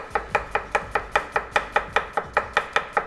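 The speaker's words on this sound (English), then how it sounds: "So as I chop through, I make sure I'm going all the way through the onion." An onion being chopped with a very sharp knife on a board, heard as about fifteen crisp, evenly spaced knife strikes in a fast, regular rhythm, close and clear with no talking.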